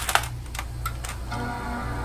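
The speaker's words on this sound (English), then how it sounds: "We got a bong sound." A beige Power Macintosh G3 desktop sounds its startup bong chime after power-on from the keyboard button, a brief tone with a sustained ringing tail, following a few clicky key presses and a low steady hum.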